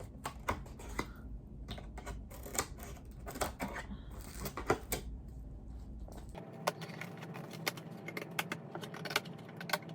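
Cardboard being trimmed away for a small flower wall craft: a quiet string of irregular snips and crisp taps, close by, with faint handling noise and no talk.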